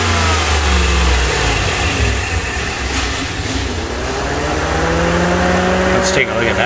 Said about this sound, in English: A wide open snap throttle, okay?